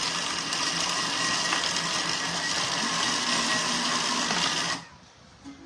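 Kitchen machine mincing meat at speed 8, a steady loud whirring blade roar for about five seconds that cuts off abruptly, leaving near silence.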